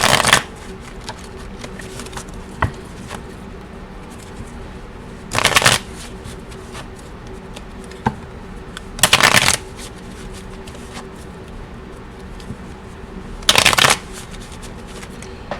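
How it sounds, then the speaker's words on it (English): Tarot cards are shuffled in short bursts, three or four quick riffling flurries separated by quiet pauses with light handling sounds between. "So I'm going to shuffle these cards."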